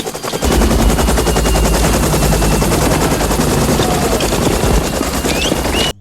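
Loud, rapid machine gun fire from a military helicopter in the film Apocalypse Now rattles continuously for several seconds, dense sustained bursts over rotor noise, ending abruptly.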